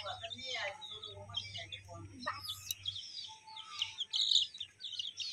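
High, thin peeping from a baby chicken repeats in short bursts across the clip, mixed with other small chirps, while a person talks over it in the first few seconds.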